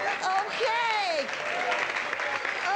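Audience applause at a live Pee-wee Herman stage show as a volunteer is brought up on stage, a brief burst of clapping mixed with a voice talking over it.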